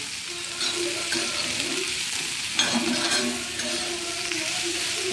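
Onions for a Maharashtrian onion bhaji are stirred in a hot pan. A steady frying sizzle runs throughout, with scraping spoon strokes and a sharper clatter near the middle.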